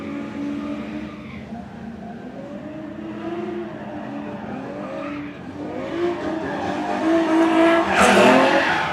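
A cammed Chevrolet Corvette C6 drifts at a live event in Mexico, its engine note rising and falling under long, wavering tire squeals, heard from some distance above a steady crowd-and-track wash.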